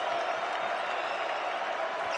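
Steady crowd noise fills a college basketball arena during a North Carolina game, a continuous roar of fans cheering and urging on the team, loud and unbroken throughout.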